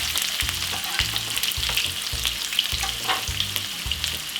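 Half a spring onion fries in hot oil in a pot, a steady close crackling sizzle with scattered sharp pops and a low background hum running under it.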